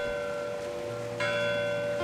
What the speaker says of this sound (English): lofty spires with bells, many bells, that awaken as we arise to meet the day